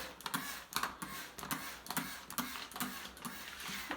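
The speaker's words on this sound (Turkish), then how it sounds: "Şöyle hazırladığım yumuşatıcı ve su karışımına arkadaşlar şöyle bol bol sıkıyorum" A spray bottle of fabric softener and water misting onto a shower cabin, a quiet series of short, sharp hissing squirts in an irregular rhythm, about eight bursts, close by with no talk.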